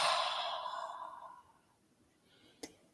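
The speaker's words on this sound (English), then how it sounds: "And just take a big breath, breathing in" A single long, deep breath exhaled during a guided breathing exercise with one hand on the head: a loud, breathy rush that slowly fades away, followed by a short, soft sniff near the end.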